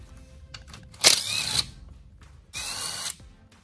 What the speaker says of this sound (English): I'll take these six bolts out.